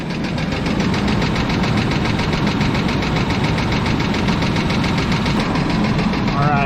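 A 1996 Chevy Blazer engine idles steadily throughout, a close, continuous rumble with a faint ticking, knock-like rhythm.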